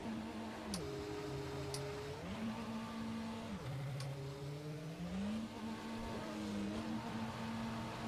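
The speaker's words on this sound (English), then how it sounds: "Now it's time to start up that Mercedes engine again." Mercedes V8 Formula 1 engine from 2010 in rFactor, simulated at Bahrain, holds a steady idle that rises and falls through a few revs, with the whine changing pitch in stepped shifts and no voices.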